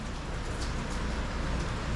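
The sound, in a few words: rain still falling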